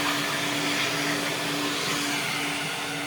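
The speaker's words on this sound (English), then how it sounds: "you got some working vacuums. So let's test it out." A car wash vacuum runs at full power, a loud, steady roaring whoosh with a constant motor whine that holds unchanged for the whole few seconds, close by and with no talking.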